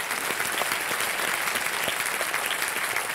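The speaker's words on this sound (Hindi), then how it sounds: "थानू भी तालियां बज जाए इनके लिए स्वागत में" A studio audience on a Hindi quiz show applauds to welcome a female contestant and her parents, a steady wash of many hands clapping at moderate loudness, even and sustained throughout.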